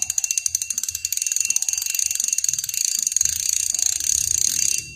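Ratcheting click alarm of a YOLO Fighter fishing reel, a rapid, loud, steady run of sharp mechanical clicks close to the microphone, with no talking.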